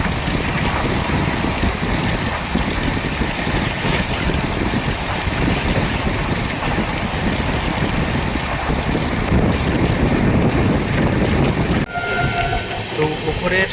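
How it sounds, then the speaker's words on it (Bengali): The Shahid Express, an Indian passenger train on the Howrah line, runs at speed with a loud continuous roar of wheels on rails and rushing wind, which drops abruptly near the end. "এত স্পিডে আমাদের ট্রেন আজকে দৌড়াচ্ছে এই শহীদ এক্সপ্রেস"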